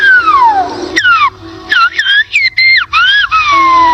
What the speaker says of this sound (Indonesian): Bahasa siulan ini disebut silbo gomero atau dalam bahasa Spanyol berarti siulan orang Gomeran.